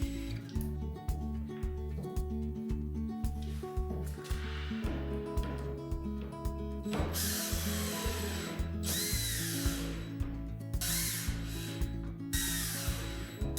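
Power drill driving screws into a bucket lid, repeated pulsing motor whines rising and stopping in short runs, close and loud, with brief scraping between.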